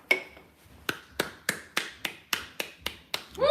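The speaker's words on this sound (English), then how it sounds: "I'm clapping for myself." A single person clapping for themselves, ten sharp, close claps at a slow, even pace, alone without talk.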